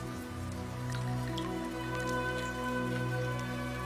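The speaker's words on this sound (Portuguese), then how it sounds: "chove em Alabasta pela primeira vez em 3 anos" Rain in the One Piece anime, falling on Alabasta, patters and drips steadily over a sustained droning musical background, continuous and moderately loud.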